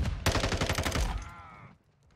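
Hurricane gun firing in Modern Warfare 2, a rapid close burst of about a dozen loud automatic shots that cuts off with a brief ringing tail, no talk.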